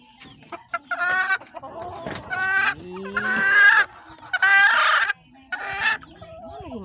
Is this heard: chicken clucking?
yes